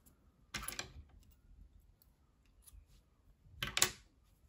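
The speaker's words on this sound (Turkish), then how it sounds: "İpliği kesiyorum." Scissors snip through crochet yarn, two distinct sharp cutting clicks about three seconds apart, close and crisp against a quiet background.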